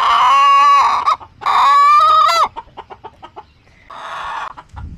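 A farmyard hen lets out two long, loud squawking calls followed by a string of short, rapid clucks and a softer final squawk, close to the microphone with no talking.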